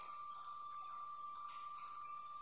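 Mouse clicks from someone working with a pen tool in After Effects, a handful of short, light ticks spaced irregularly over a steady electronic whine, with no one talking.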